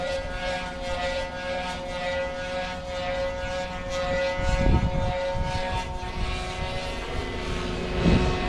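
A Goblin 500 RC helicopter flies overhead outdoors, its steady high-pitched rotor and motor whine holding a constant tone, with a couple of low thumps from wind buffeting the microphone and no talking.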